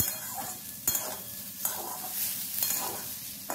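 Jackfruit and potato pieces being stirred and fried in a wok, with a steady crackling sizzle and a few sharp scraping strokes of the spatula at regular intervals, close and fairly loud, with no voice.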